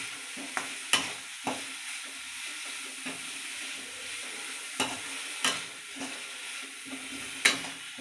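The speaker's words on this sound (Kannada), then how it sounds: "ಉಪ್ಪನ್ನ ಹಾಕಿ ಹಾಗೆ ಮಿಕ್ಸ್ ಮಾಡ್ಕೊಳ್ಳೋಣ" Onions fry in a pan with salt while a spoon stirs them, a steady close sizzle broken by periodic scraping knocks of the utensil against the pan, with no talking.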